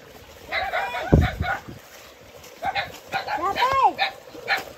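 A dog barks a few times on a rural farm, sharp and fairly close, mixed in with people talking nearby and fowl calling in the background.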